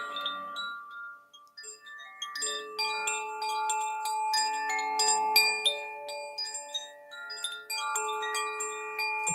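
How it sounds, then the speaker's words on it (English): Koshi chime of the water element, played as a cascade of delicate, randomly struck metallic tones that ring and overlap with long sustains, close and clear without any talk. "The Kochi bell,"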